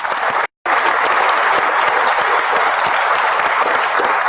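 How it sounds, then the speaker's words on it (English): Dense, sustained applause from an audience at an awards ceremony, loud and continuous with a brief dropout near the start, no voices over it. "another big round of applause for all of us"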